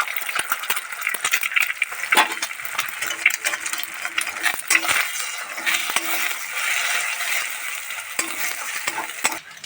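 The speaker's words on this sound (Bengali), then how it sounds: "অল্প তেল দিয়ে দেবো ডিমটা ভাজার জন্য।" An egg fries in a little oil in a pan while chowmein is being cooked, with a busy, close mix of sizzling, scraping and clattering utensil sounds in irregular bursts throughout.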